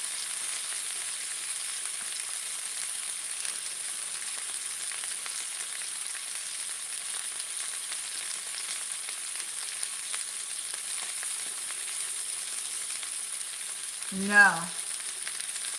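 Parboiled sausages fry in a pan with a continuous, even sizzle and hiss throughout, and a brief voice speaks near the end.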